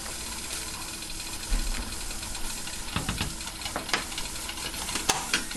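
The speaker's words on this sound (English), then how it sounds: "Just give these a quick stir." Egg noodles stirred in a pot on the stove, with a steady hiss and bubbling, and soft scraping and clinking from the utensil in irregular strokes, close and fairly quiet.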